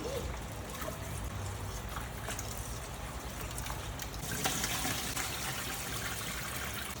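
Tap water runs steadily as sun-dried tomatoes are rinsed again in a home kitchen, a continuous broadband trickle and splash that swells slightly louder about two-thirds through, with no talking.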